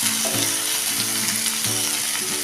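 Tomatoes sauté in a pan for cashew masala, giving a loud, steady sizzle with periodic scraping strokes of a spatula stirring through the mixture, close and continuous.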